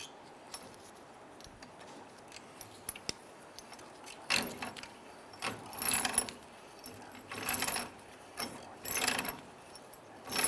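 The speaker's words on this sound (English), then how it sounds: "Now I'm going to use my wrench. I'm just going to pop it on the ball joint stud." A hand wrench works on the ball joint stud of a 1999-2004 Jeep Grand Cherokee's front right outer tie rod, with bursts of metallic clicking and jangling, louder toward the end, and no talk.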